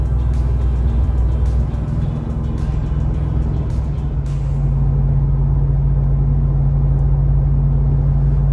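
Cab interior of a Ford Tremor pickup towing a load and coasting downhill in seventh gear without throttle, a steady loud low engine and road drone throughout, with no speech.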